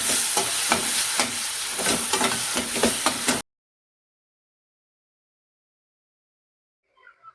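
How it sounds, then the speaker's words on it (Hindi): Rice being stir-fried in a home kitchen pan: steady sizzling with rhythmic scraping strokes for about three seconds, then abrupt silence broken by a faint brief clatter near the end. "लेकिन पुच्चू के लिए और शिवांश के लिए थोड़े से चावल फ्राई कर लेती हूँ"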